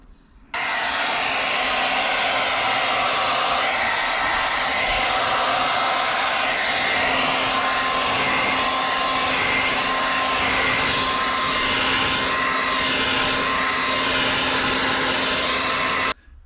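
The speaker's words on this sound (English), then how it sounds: "Never put the heat gun too close, ever." A heat gun blowing hot air onto a carbon fiber wrap on a Tesla Model 3 cupholder, a loud continuous whooshing roar with a faint steady whine, alone, stopping abruptly at the end.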